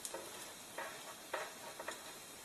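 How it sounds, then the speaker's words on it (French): A bread roll sizzles gently in bacon fat on a Tefal plancha, a faint crackling hiss punctuated by a few soft taps and scrapes. "Ici on va aller finir de passer le petit pain dans le gras des lardons."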